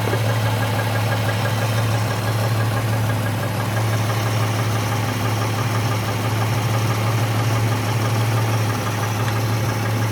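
A car engine idles steadily with a low, constant rumble and faint mechanical vibration, unchanging throughout and with no talking.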